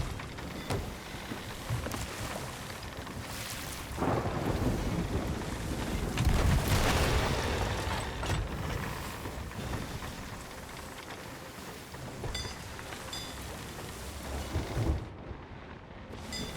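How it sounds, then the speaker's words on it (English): Rain pours steadily with rolling thunder rumbles in the pirate game Sea of Thieves, a dense wash of noise that swells around the middle and sharpens with a crack near the end, no voices present. "it won't matter because it's raining"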